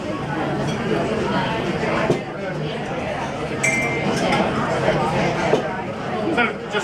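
A glass clinks as it is set down behind a bar during a Tanqueray gin mixing demonstration, a single short chime heard amid steady background room noise.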